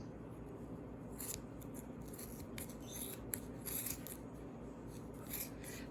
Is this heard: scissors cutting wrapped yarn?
yes